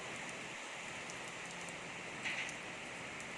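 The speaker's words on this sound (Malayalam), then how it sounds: "മഴ നല്ല ശക്തിയോടെ തന്നെ പെയ്യുന്നുണ്ട്" Heavy evening rain pours down steadily in a garden of euphorbia plants, a constant dense hiss that stays even throughout, with no voices.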